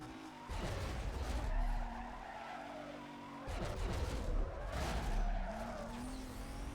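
Tires skidding and an engine droning in the racing game Need for Speed Most Wanted, two loud sliding bursts with the motor note dipping and climbing, no voices.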